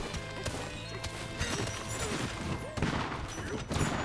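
Donkey Kong smashes through terrain in the game Donkey Kong Bananza, a rapid series of loud crashing and cracking impacts with debris, close and busy, with a voice talking faintly underneath.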